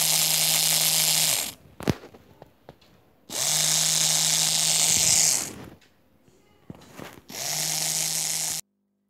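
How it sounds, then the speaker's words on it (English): A small DC motor switched on and off by an Arduino-controlled MOSFET, three loud whirring bursts of about two seconds each with a steady hum, separated by near-silent gaps holding faint clicks and rattles. "we are now switching this motor. It's being put on for 2 seconds and off for 2 seconds"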